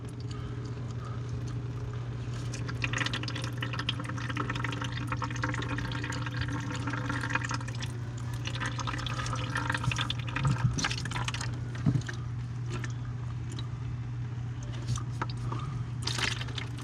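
Antifreeze coolant drains from the heater core of a 1985 Pontiac Fiero GT, pouring and splashing steadily into a catch container, close and continuous under a low background hum.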